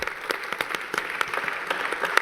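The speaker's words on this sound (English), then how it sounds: "Let's give a big round of applause to our panel members." Applause from a conference audience for the panel members, a sustained patter of clapping with sharper individual claps standing out near the end, fairly close and steady throughout.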